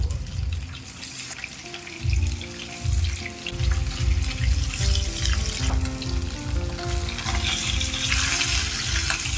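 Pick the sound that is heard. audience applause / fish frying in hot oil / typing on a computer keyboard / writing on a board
fish frying in hot oil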